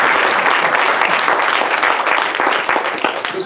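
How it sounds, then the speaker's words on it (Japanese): Warm audience applause at a Spitfire Audio 10th anniversary event welcoming a guest commentator, dense continuous clapping from a room full of people, loud and close from start to finish. "拍手で、よろしくお願いします"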